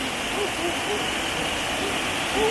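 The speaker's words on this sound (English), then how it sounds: "the waterfalls." A waterfall in Jamaica gives off a steady, even rush of falling water that fills the short clip, with voices faintly present underneath.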